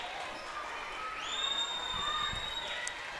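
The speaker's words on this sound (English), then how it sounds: "Crowd really get into that series of events." A crowd at a Hobbs versus Artesia high school volleyball match murmurs and cheers in a steady, somewhat distant roar, with a thin, high whistle-like tone sustained over the noise.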